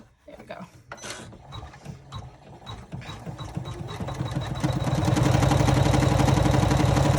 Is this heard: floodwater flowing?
no